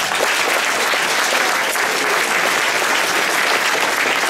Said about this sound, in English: a huge round of applause for Carmen.